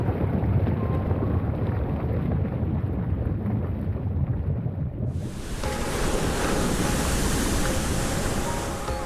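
Ocean waves and sea wind roll in the video game Ys X: Nordics, a continuous loud rush of surf and gusting breeze that grows brighter and more hissing midway, with no voices.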